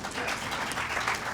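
Crowd clapping at an interfaith solidarity march in Los Angeles, a brief dense burst of applause at steady loudness with nothing else prominent.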